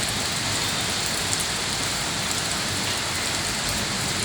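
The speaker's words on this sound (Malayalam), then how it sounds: "കർക്കിടകത്തിലും ഗ്ലാമിലൊക്കെ പെയ്യേണ്ട മഴയാണ് ഇപ്പോൾ പെയ്തു പോകുന്നത്" Steady afternoon rain pouring down in Kozhikode, an even, dense hiss of drops hitting surfaces, with no voices.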